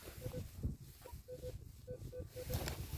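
A Minelab Equinox 900 metal detector giving a signal: a faint series of short, evenly pitched beeps repeating in uneven pairs over rustling ground noise while searching.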